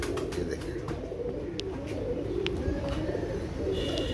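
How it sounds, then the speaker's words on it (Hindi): Pet pigeons coo softly in a continuous low murmur amid faint background noise, with a few brief chirps scattered through. "ये मेरे कबूतर हैं दोस्तों"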